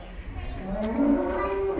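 A Jersey cow on a farm gives a single long, rising moo that swells midway and holds steady, loud and close, with no talk over it.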